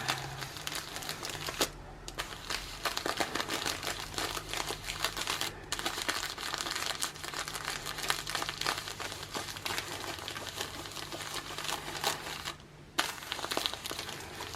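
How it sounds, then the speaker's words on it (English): Butcher paper crinkling steadily as it is pressed and smoothed with a heat press over heat-transfer vinyl on a plush pumpkin, a continuous close rustle with brief pauses. "So I'll just tighten that butcher paper on, and I'm just going back over."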